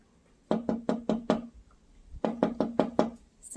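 Knuckles rap on buckeye tree wood in two quick bursts of five and six hollow, resonant knocks, close and alone with no talking.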